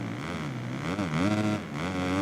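Motocross bike engine in the MXGP Pro video game at an MX2 race in Mexico, a steady buzzing drone with pitch rising and dipping as it struggles for revs, near and continuous.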